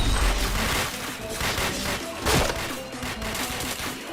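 Rapid gunfire from the online shooter PointBlank fills the whole stretch: dense, steady bursts of shots and impacts under game effects, with no gap in the firing.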